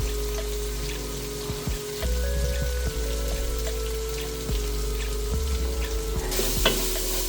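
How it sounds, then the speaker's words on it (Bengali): Turmeric, chili, coriander and cumin powders sauté in a pan for a cow head curry, giving a continuous close sizzle and frying crackle with occasional stirring scrapes and a low steady hum underneath. "তারপর মশলাগুলো আমি ভালোভাবে কষিয়ে নিব।"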